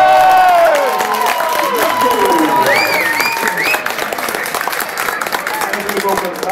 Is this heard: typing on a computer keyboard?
no